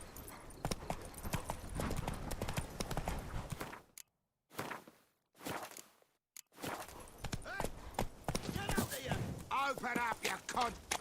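Roach, a horse in The Witcher 3, galloping with rhythmic hoofbeats that drop out briefly midway, mixed with game sounds and a rising musical or ambient layer toward the end.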